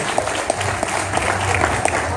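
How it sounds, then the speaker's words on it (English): Audience applause at a live horror-themed sideshow performance, a steady wash of clapping lasting about two seconds with some crowd noise mixed in, moderately loud and fairly close. "Let's give her a big round of applause"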